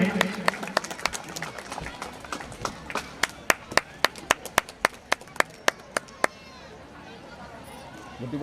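An audience at a Hindu religious gathering claps in a steady rhythm to welcome a guest, sharp hand claps quickening and growing louder over a murmuring crowd before stopping abruptly.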